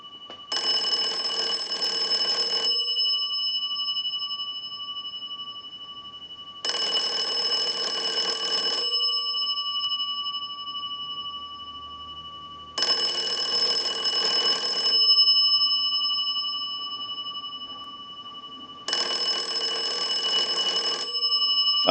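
A wood wall crank telephone rings from an analyzer's ring cycle, giving four loud clanging bell bursts of about two and a half seconds each, separated by silent gaps of roughly four seconds, close and clear.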